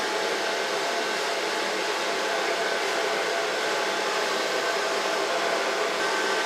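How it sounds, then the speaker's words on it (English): A hair dryer blows continuously at close range while hair is styled with a medium-large round brush, a loud, unbroken whooshing roar with no talk. "I will blow dry it with a large brush, not too, but medium large."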